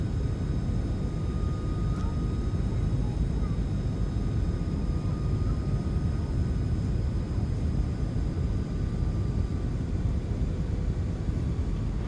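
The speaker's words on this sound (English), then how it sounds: "You can hear the sound of the engines now." Boeing 737NG jet engines in a flight simulator game on approach before landing, a steady low rumbling roar with a faint high whine, continuous and even throughout.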